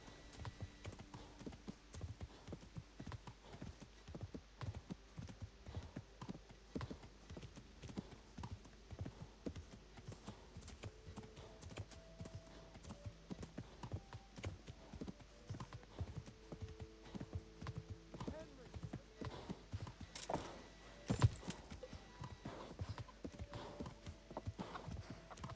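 Horse hooves trot in Kingdom Come: Deliverance with a steady, fairly faint clip-clop rhythm that continues throughout, plus a brief sharp accent partway through.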